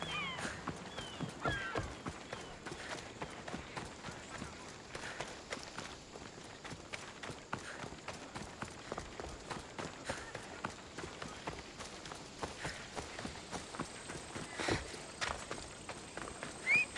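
Horse running in Assassin's Creed Odyssey, with steady hoof clip-clops under a constant game ambience and scattered voice-like sounds, moderately quiet and continuous for the whole stretch.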